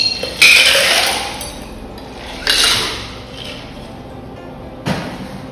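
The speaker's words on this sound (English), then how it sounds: "go ahead and roll the cocktail back and forth twice." A ginger mojito with ice rolled back and forth in a metal cocktail shaker, three loud rattling sweeps of clinking ice and metal, each starting with a sharp impact and then fading, with no talk.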